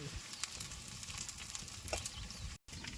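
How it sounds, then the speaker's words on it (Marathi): Something fries in hot oil in a kadhai, a faint steady crackling sizzle with occasional light pops, quiet and continuous apart from a brief dropout. "तापल तेल तापलंय आता तळून घ्यायचं"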